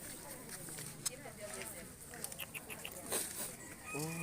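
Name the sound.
chickens clucking at a rural morning market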